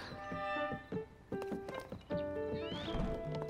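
A horse in the video game Zelda: Tears of the Kingdom gives a short whinny and snorts amid clip-clop hoof sounds and a steady game music bed, close and moderately loud.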